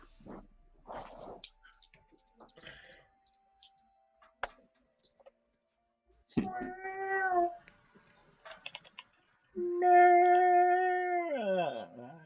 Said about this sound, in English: Someone should feed that cat.